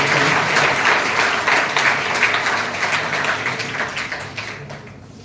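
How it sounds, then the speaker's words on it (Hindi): At a college science-day memorial lecture, an audience greets a guest with hearty applause, many hands clapping loudly at first and then gradually tapering off toward the end. "सभी लोग जोरदार तालियों से स्वागत करें।"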